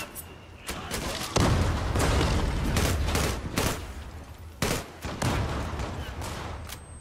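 Gunfire in the team deathmatch shooter Zula Europe: loud, rapid automatic bursts come in clusters, with short gaps and quieter background between volleys.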